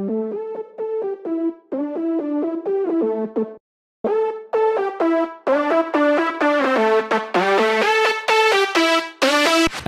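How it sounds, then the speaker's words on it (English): A future house drop lead plays a bouncy synth melody of short repeated notes that grows brighter and fuller as a low pass filter opens, with a short gap midway; no talking. "Fade in the drop lead with a low pass filter."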